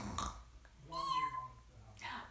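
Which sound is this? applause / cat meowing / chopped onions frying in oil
cat meowing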